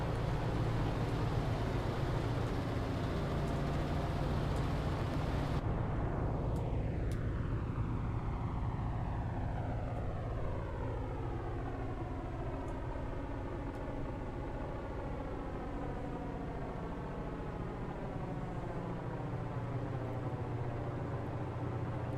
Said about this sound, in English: Listen to that twin engine.